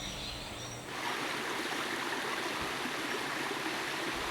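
A stream flows steadily at Jangansa temple with a continuous broadband rush of water that grows slightly fuller after the first second, close and unbroken, with no voices.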